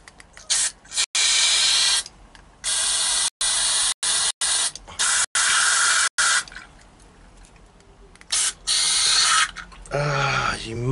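Brake cleaner hisses from an aerosol can in loud bursts of a second or two, cut by short pauses and a longer quiet gap, with someone talking briefly near the end.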